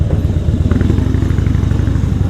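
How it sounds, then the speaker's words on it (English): A Harley-Davidson Fat Boy motorcycle with a baffled exhaust idles close by with a deep, throaty exhaust rumble, steady rapid pulsing and loud, no voices. "the sound of the exhaust. It's also got baffles on it, so it's got this nice throaty sound to it."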